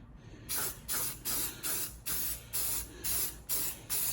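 Spray primer applied to a rusty vintage motorcycle case, a close hissing aerosol in repeated short bursts of about half a second each, steady and evenly spaced, alone with no talk.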